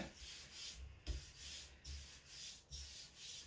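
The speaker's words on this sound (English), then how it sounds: "the trick to doing this with this sort of wood is to do a sand in a sort of circular figure of motion or figure of 8" Rough wood being hand sanded in circular or figure-eight strokes: a steady, close, rhythmic scratchy rubbing in repeated passes of roughly half a second, with no voices.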